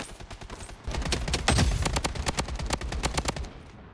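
Rapid automatic AK-47 fire in the mobile shooter Blood Strike: a sustained string of sharp, evenly spaced shots, loud and close, with almost no talk.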